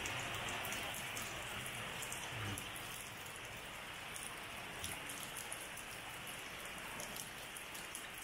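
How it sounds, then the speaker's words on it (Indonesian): Rain falls steadily around a lodge at Tangkahan, a broad, even hiss of drops with occasional closer patters, continuous and moderately loud, no one speaking. "Hari ini hujan."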